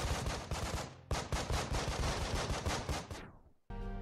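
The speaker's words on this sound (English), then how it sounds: "The weapon sergeant is able to provide cover fire for the rest of the team" Dense rapid gunfire from a squad's cover fire in the tactical video game Breach & Clear, loud overlapping bursts with a short break, then fading before a final flat tone.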